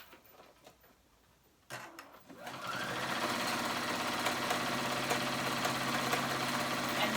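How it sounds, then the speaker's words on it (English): Sewing machine stitching down a dress hem, starting up after a quiet moment and settling into a loud, steady, close mechanical whir that runs without pause to the end. "And I am going to stitch that down."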